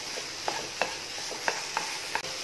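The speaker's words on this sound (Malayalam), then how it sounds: "ഇനിയിതുകൂടി നന്നായിട്ട് മിക്സ് ചെയ്തു കൊടുക്കാം" A sweet coconut breakfast mixture being stirred in a pan, with a soft background sizzle and five or six distinct scrapes of a spoon at irregular intervals, close and fairly quiet.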